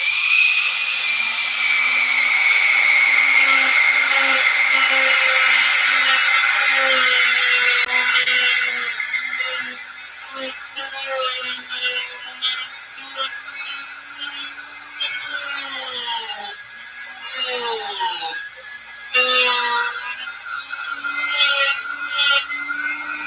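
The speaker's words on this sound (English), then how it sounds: "I'm going to do a quick sand out with 180" Hand sanding of a wooden model fuselage with 180-grit sandpaper, a steady close scratchy rubbing that runs continuously, then turns into shorter uneven strokes with pauses.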